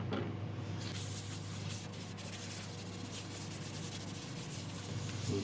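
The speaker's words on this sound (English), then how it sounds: "Wipe off again any excess with isopropyl." Cloth rubbing and wiping across shellac-finished turned wood with isopropyl alcohol, a steady soft swishing friction that runs continuously and close, with no talking.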